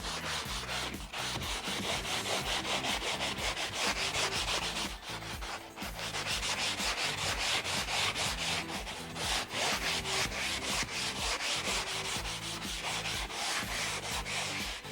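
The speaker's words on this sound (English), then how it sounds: "Now that the second layer is completely dry, it's time to sand." Steady rhythmic rubbing of sandpaper across a dried paint layer on wooden furniture, close and continuous, with quick back-and-forth strokes and a brief pause partway through.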